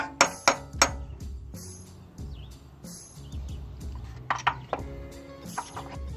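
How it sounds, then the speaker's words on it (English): Several sharp metallic hammer strikes while installing a clutch on an LS engine, a quick burst of three, then a pause and more irregular blows, ringing slightly, close by. "Now we can really get the hammer into this."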